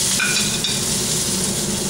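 Onion frying in a hot oiled pan for Mongolian beef, producing a loud, dense, continuous sizzle heard close up.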